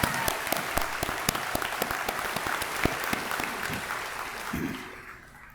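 A commencement ceremony crowd applauds a choir steadily, many hands clapping in a dense, sustained wash that gradually fades out.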